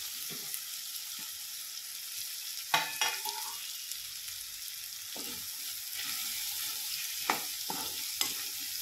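Ridge gourd pieces fry and sizzle in a pan with a steady hiss, broken by several sharp stirring scrapes and clatters at close range, with no talking.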